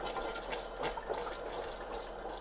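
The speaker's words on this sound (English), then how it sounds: "we're also going to remove the sediment by running the water, quite a bit of water actually" Water runs steadily from an LG refrigerator's dispenser into a container, a continuous faint rushing and splashing flush that flows sediment out after a filter replacement, with no voices.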